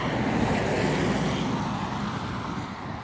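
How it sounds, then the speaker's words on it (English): Steady broadband roar of street traffic at a roadside near a bus stop, continuous and fairly loud with wind buffeting the microphone and no talking. "Pardon the traffic noise here"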